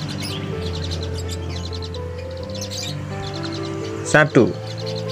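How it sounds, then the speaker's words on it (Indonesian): Chirps and calls from Javan pied starlings (jalak suren) at a bird market, faint repeated notes under steady background hum, with a louder sharp call near the end and a voice speaking briefly. "Anda mengetahui suara jalak suren yang bagus"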